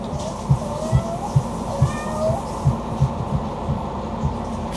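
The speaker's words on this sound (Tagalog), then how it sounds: "Doon ka din yung si Peanut nag-meow" A cat lets out a few soft, drawn-out meows, faint and set back behind a steady, rhythmic thumping pulse that runs through the whole stretch.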